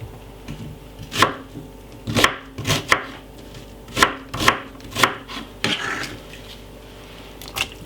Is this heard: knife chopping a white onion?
yes